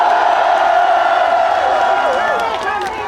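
A large crowd at an anti-impeachment rally in Yeouido, Seoul, claps and cheers in a dense, continuous roar that holds steady and eases slightly toward the end.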